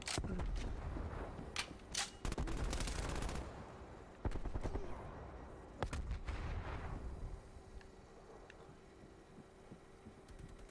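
Gunfire from a gun in a video game comes as several sharp bursts of shots in the first half. The loud cracks are clustered near the start, then sparse single reports follow and the action fades to quieter background.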